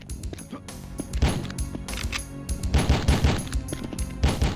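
Gunfire from the 1998 PS1 video game The Fifth Element, rapid bursts of game-style shots and impacts layered over a busy, dense background score, loud and continuous across the clip.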